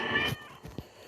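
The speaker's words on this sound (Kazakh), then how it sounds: "Не, мысық." A cat gives one short, close meow that fades quickly, followed by a few faint soft rustles.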